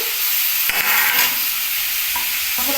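Tomato and green chilies frying in a pan for an egg curry, a loud, steady sizzle and hiss with a few brief clatters of stirring, close up.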